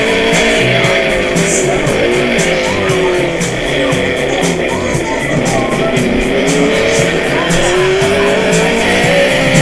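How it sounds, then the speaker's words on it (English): A 1964 Ginetta G4 four-cylinder competition sports car races on a track at high revs, its engine screaming loud and continuous with a harsh, aggressive note and hints of tire squeal throughout. "You heard that just absolutely mean, aggressive, just screaming four-cylinder"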